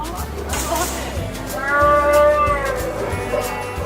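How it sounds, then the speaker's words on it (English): A Wookiee roar sound effect: a long, warbling, growling howl that rises and falls, heard over background music. "And the sounds of a Wookiee or two."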